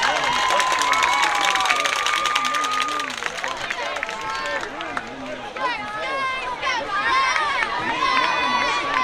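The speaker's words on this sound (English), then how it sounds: "Ladies and gentlemen, another round of applause for the Blue Academy" Stadium crowd at a playoff high school football game applauding and cheering for the Blue Academy varsity dancers, a dense steady roar of clapping and voices with shouts and chatter mixed in throughout.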